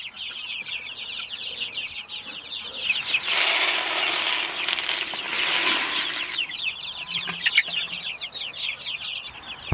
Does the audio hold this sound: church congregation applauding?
no